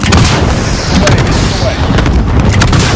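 An attack helicopter gun run in Modern Warfare 2019, loud continuous rumbling cannon fire and blasts thundering close, dense and unbroken, with radio-style voices faintly mixed in.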